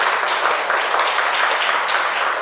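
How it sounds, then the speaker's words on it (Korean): Audience applause at a seminar-style business presentation in a hall, a steady, dense wash of many hands clapping that holds at an even level throughout without a break. "박수 한번 보내주세요"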